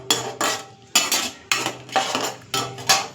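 A spoon scrapes and stirs a cornflour mixture into tempering in a metal pan for baby corn manchurian, six quick, close, evenly spaced strokes of clattering metal-on-metal with short pauses between.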